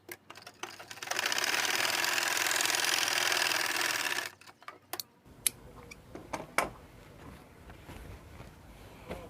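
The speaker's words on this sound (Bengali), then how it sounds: "তো সেলাই করে আটকে দিচ্ছি।" A sewing machine stitching the back pocket of a pair of pants runs in one steady, fast-ticking burst for about three seconds, then stops, followed by scattered clicks and handling taps.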